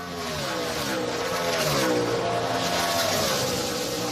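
NASCAR stock cars racing at the 2011 Brickyard 400 at Indianapolis, loud roaring engines rising and falling as cars pass and jostle for position, a continuous blended roar of several cars.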